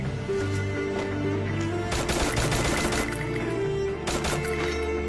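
Rapid bursts of automatic gunfire crackle in the Free Fire video game over a constant droning hum of game sound, with dense volleys in the middle and another short burst near the end.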